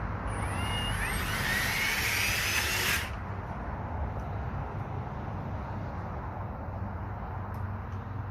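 A Ryobi ONE+ 18-volt HP lithium-ion cordless earth auger with a 6-inch bit drills into the ground with a loud, steady motor whine for about three seconds, then cuts off and leaves a low outdoor rumble.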